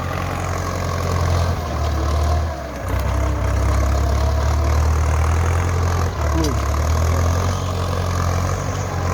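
A Ford 6600 tractor engine runs steadily in a deep, low rumble while pulling a three-disc plow through hard soil, holding close and loud throughout with only a brief dip in the drone.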